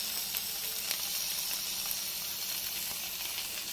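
Brinjal and peanuts fry in oil with a soft, constant sizzle and fine crackling heard up close, gentle and even throughout with no talking.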